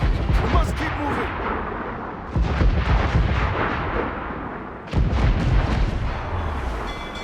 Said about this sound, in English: Mortar incoming! We must keep moving!